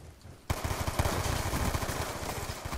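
Rapid automatic weapon fire in Call of Duty Black Ops 2, an MG-style gun chattering in a steady fast burst that kicks in abruptly after a quiet start and continues loudly to the end.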